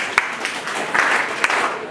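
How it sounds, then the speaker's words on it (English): An audience breaks into a brief round of clapping at a gathering, a dense wash of hand claps with a few sharper accents standing out, moderately close and continuous for a couple of seconds. "So let us clap for him individually."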